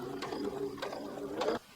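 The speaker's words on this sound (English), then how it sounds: "Keep the edge of the bias tape in the center of your presser foot and just stitch around." Domestic sewing machine stitching bias tape binding close to the fabric edge under the presser foot, a steady mechanical whir in three short running bursts with brief pauses between.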